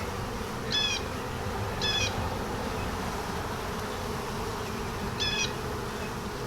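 Honeybees hum in a dense, constant buzz during a beehive inspection, close and steady throughout, with a few short, high chirps rising above it.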